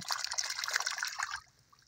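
Clear water trickles and dribbles in a brief, close babbling burst that cuts off abruptly after about a second and a half, leaving only faint low background.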